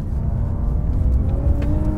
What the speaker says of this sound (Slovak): Však ťahá ten motorček